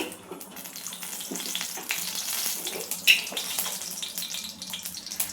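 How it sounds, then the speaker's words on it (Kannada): Mustard seeds and chana dal fry in hot oil in a kadai, giving a steady crackling hiss with brief louder pops, close and continuous with no voices. "ಎಣ್ಣೆ ಚೆನ್ನಾಗಿ ಕಾದ್ಮೇಲೆ ಸ್ವಲ್ಪ ಸಾಸಿವೆ, ಸ್ವಲ್ಪ ಕಡಲೆಬೇಳೆ"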